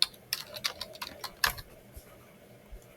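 Quick, uneven keystrokes on a computer keyboard entering a short lowercase command, close and fairly quiet, with a few louder taps among the lighter clicks and soft pauses between bursts.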